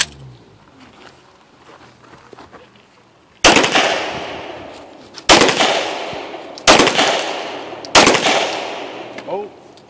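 Four loud, close pistol shots of 9mm and .40 rounds fired at a body armour plate outdoors. Each is a sharp crack with a short echoing decay, spaced a couple of seconds apart after a quiet lead-in.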